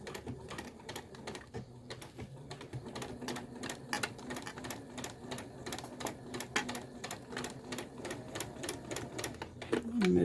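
A sewing machine stitches a seam on a fabric face mask, backstitching at the start, with a dense, rapid mechanical clatter running steadily and fairly close throughout.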